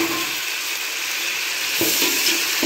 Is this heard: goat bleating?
no